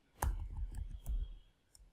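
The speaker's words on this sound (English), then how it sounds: "Click on this connect button" A computer mouse clicks sharply and close by, several distinct dry clicks spread unevenly with small thuddy handling noises between them and no talking.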